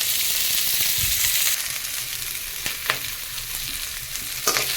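Chopped onion fries lightly in a pan for okra do pyaza, a steady hiss of sizzling oil broken by a few sharp scrapes of the spoon stirring.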